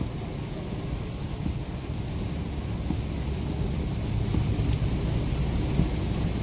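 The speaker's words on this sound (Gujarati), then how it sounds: "ચાલો, વરસાદે જમાવટ લઈ લીધી છે." Heavy rain drums steadily on a car during a drive, mixed with a low, constant engine and road rumble from inside the vehicle, with no one speaking.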